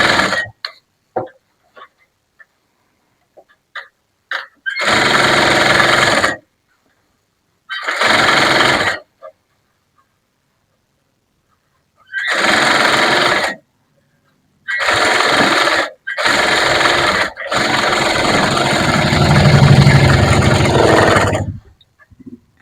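A sewing machine running in several separate bursts of steady mechanical whirring while stitching a double seam on a blouse, with a longer final run and short quiet gaps in between.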